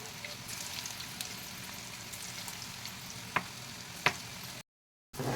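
Bottle gourd koftas deep-fry in hot oil like bhaji, giving a steady, soft sizzle and crackle with a couple of sharp pops near the end before the sound cuts out briefly.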